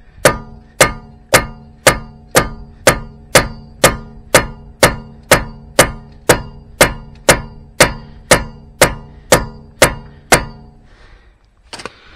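A hammer strikes a bit set into a security screw again and again, about twenty sharp metallic blows at a steady quick rhythm. Each blow rings briefly and is close and loud. The hammering stops near the end.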